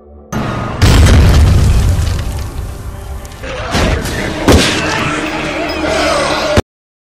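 A truck reverses and smashes into a building in an action film scene, heard as a loud booming crash with heavy thuds and debris impacts that rumble on for several seconds, followed by a second sharp impact.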